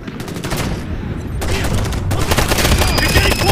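A grenade blast and heavy gunfire in the shooter game Ghost Recon Future Soldier, with continuous loud, dense firing and booms filling the whole stretch.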